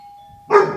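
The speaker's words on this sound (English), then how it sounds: "So you see how the doorbell rang and he's wanting to get up." A doorbell rings at home, a faint steady tone followed by a louder bright chime burst near the end.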